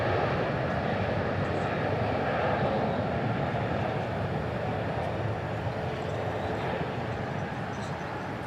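An airliner at DFW airport throws out a loud, continuous engine roar with a broadband rumble that stays dense and steady throughout, heard with no voices.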